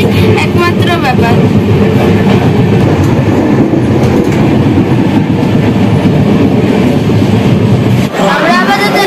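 A passenger train in Madhya Pradesh rumbles loudly along the rails with a steady rattling clatter, close by, while voices talk over it and a brief squeal rises near the end.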